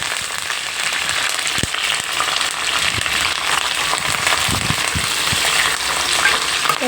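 Garlic, green chillies and curry leaves sizzle steadily in hot oil in a pan for ajwain rasam, with a dense continuous crackle and a few louder pops and stirring clinks, close up and without voices.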